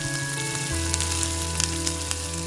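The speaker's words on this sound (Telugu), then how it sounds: "కడాయి బాగా వేడెక్కాక ఒక 2 స్పూన్లు ఆయిల్ వేసుకొని పచ్చిమిర్చి వేసుకొని చక్కగా వేయించుకోవాలి." Green chillies sizzle in about two spoons of oil in a hot kadai, a close, steady frying hiss with small crackling pops over a low, constant hum.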